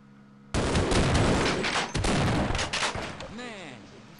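Sudden loud burst of gunfire in the game Half-Life, a dense sustained volley of close shots lasting a few seconds before trailing off into ricochet-like whines.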